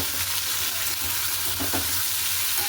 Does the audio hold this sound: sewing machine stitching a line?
no